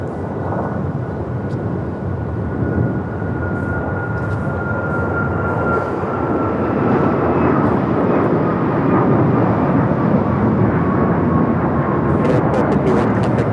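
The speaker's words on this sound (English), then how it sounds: "This is United Airlines 1251 taking off to Cleveland, Ohio on the MAX 8." United Airlines Boeing 737 MAX 8 taking off at LAX, a loud, steady jet engine roar with a sustained whine that builds and swells over the full length, no talk over it.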